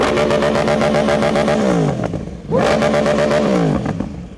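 A loud superbike engine revs high twice, each burst holding at the top before dropping away, with a crackling note as the revs fall.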